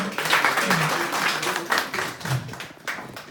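Audience at an Urdu mushaira claps in scattered, uneven bursts, fairly close, with murmured voices mixed in beneath the applause.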